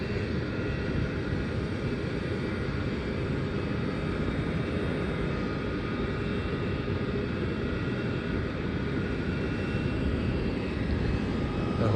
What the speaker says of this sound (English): So Scoot Airlines is coming down.